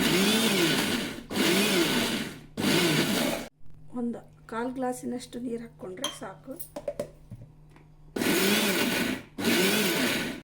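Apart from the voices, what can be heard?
mixer grinder grinding fenugreek chutney coarsely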